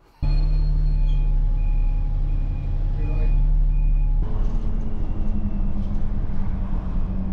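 A number 55 bus passes close by: a loud, steady low engine rumble with tonal whine, shifting to a deeper, rougher drone partway through as it moves off.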